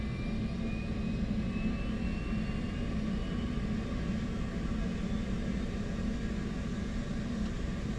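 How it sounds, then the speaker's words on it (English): An F-18 auxiliary power unit starts up in the DCS World flight simulator, giving a steady, fairly quiet whine and broadband rush with a faint rising tone and no talk. "We are going to go ahead and start the APU."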